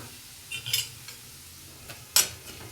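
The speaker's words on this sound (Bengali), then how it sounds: "এবারে তেলের মধ্যে সুজিটাকে দিয়ে দিচ্ছি।" Semolina (suji) going into hot oil in a pan to fry, with a soft sizzle and a few clinking utensil scrapes and stirs, close by with no voices.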